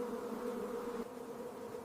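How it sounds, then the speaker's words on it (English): Flies buzzing around a lion, a steady close droning hum of insect wings that holds continuously, slightly fading partway through, with no voices. "Swarms of flies gather, buzzing endlessly around the lion's eyes, nose, and ears."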